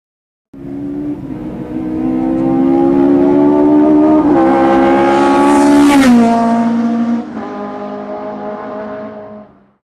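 A Super V8 race car on track in Automobilista revs up from idle, its engine note climbing steadily to a loud, sustained howl, then briefly dropping and rising again before cutting off.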